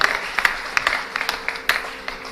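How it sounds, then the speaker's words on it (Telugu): Audience clapping at a Hindu religious talk, a scattering of sharp individual claps over a thin wash of applause, moderately loud and somewhat uneven rather than a full roar. "గట్టిగా చప్పట్లు కొట్టండి ఒకసారి"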